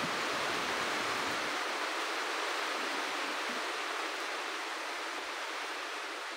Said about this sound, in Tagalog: Ulan pa more! At yan ang kailangan natin, ulan.